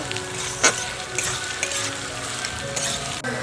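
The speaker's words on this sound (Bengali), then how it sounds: "তেলের মধ্যে পেঁয়াজটাকে একদম বাদামি করে ভেজে নেব।" Chopped onions hiss and sizzle in hot oil, with a few light clinks and scrapes from stirring mixed in.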